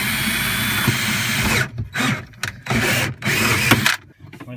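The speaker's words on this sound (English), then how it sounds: "screw drill through the bolt." A power drill bores through a bolt during a saddle installation, a loud close whine that runs steadily, then stops and restarts in several short bursts before cutting off.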